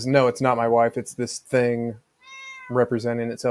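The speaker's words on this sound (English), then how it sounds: "That's my cat." A house cat gives one clear, mid-length meow in a brief pause between stretches of someone talking.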